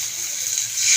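Water is poured steadily into a cooking pot holding boiled potatoes and spices, a continuous close hiss and splash that swells slightly toward the end.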